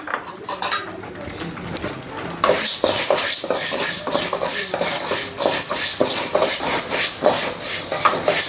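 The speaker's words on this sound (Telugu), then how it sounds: "ఈ పప్పును కొంచెం వేంపుకోవాలి మనం" Toor dal being dry-roasted in a pan for tomato chutney, a steady loud scraping and rattling of lentils stirred against the metal with occasional clinks of the spoon, continuous and close.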